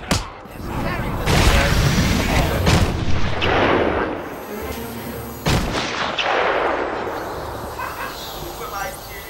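Gunfire from the Batman: Arkham Asylum video game, several sharp booming shots and echoing blasts over about nine seconds, loud and close amid game sound.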